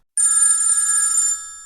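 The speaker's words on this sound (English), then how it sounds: "not a lot of people know your phone is ringing" Loud, close electronic telephone ring, one sustained bright trilling burst lasting just over a second before cutting off, with no voices.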